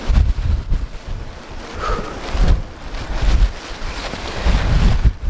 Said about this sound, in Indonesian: Anginnya juga kencang sekali anginnya.